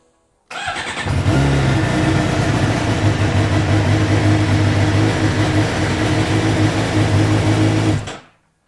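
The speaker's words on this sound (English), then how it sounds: "So we're just going to turn the bike on for 5 seconds" A Suzuki GSXR750 motorcycle engine starts and runs steadily for several seconds at idle, loud and close, with a fast mechanical chatter over a low throbbing hum before it cuts off.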